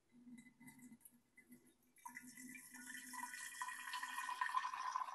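Hot water poured into a primary fermenter for chocolate cherry wine, a steady splashing stream that starts partway through and keeps building, following a few quieter knocks and dribbles.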